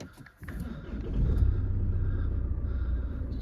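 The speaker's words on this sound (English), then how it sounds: "Just start the car up." A Range Rover Evoque 2.2 SD4 diesel turns over and fires, then settles into a steady low, rumbling idle that holds close and fairly loud after a short quiet moment.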